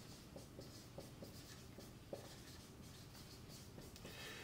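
Pen writing notes by hand on paper during a histology lesson on the tongue, a steady soft scratching with small taps and strokes at close range, no talking.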